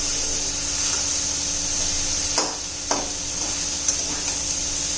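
Vegetables sautéing with masala in a hot pan: a steady loud sizzle runs throughout, broken by a few sharp clinks and scrapes of a spoon against the pan.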